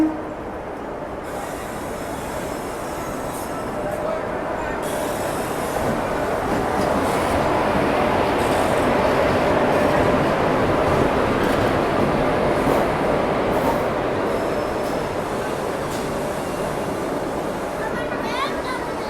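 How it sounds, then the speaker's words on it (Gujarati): The Rajkot–Somnath passenger train rumbles at Rajkot railway station, a loud, steady rolling noise with wheel clatter that swells and holds for the whole stretch, with voices faintly in the background. "સામે જ આવી ગઈ રાજકોટ સોમનાથ પેસેન્જર"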